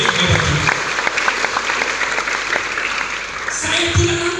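A church congregation at a Christmas celebration bursts into applause, a dense, steady clapping from many hands lasting several seconds with a few louder claps standing out.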